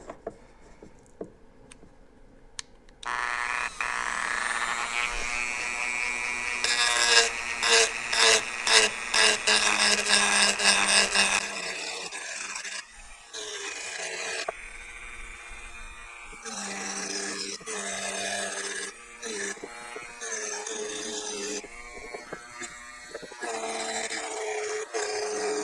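A gouge scrapes and rasps against a spinning wood burl on a lathe, cutting away epoxy in loud sustained passes that pause and resume, with a brief lull partway through.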